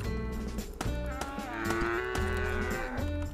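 Cows in the video game Craftopia, mooing in long, drawn-out, overlapping calls with a few sharp thuds in between, heard fairly close with no talking.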